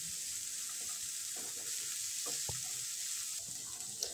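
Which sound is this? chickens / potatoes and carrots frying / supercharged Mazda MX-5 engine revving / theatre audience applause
potatoes and carrots frying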